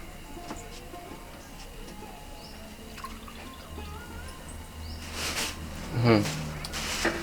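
Milk is poured into a saucepan already holding water while making tea in a home kitchen, heard as a liquid trickle and splash that rises near the end, with people talking over it and background noise.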